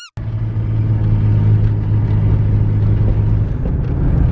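A lifted Jeep with rear leaf springs drives with a loud, steady low engine rumble and road noise, the drone holding level throughout at close range with no talking.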